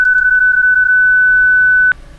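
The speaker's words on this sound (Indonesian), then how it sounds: "kalau PSK31 kayak gini suaranya" A steady, unbroken PSK31 digital radio tone holds for about two seconds, then cuts off with a brief click, leaving quiet background hiss.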